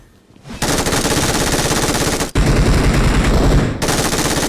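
Rapid automatic gunfire in the mobile battle-royale game BGMI, loud and sustained in dense bursts, with a brief break in the middle before firing resumes; no talking.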